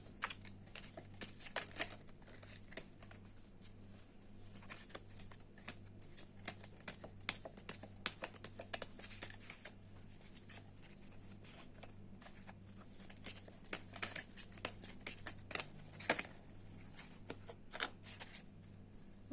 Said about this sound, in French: Je vais reprendre une carte de cet oracle-là.